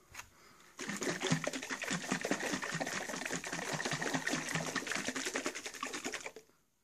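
A closed jar of soil and water shaken hard for a sedimentation test gives a dense, rapid rattling slosh that runs steadily for about five seconds, then stops abruptly.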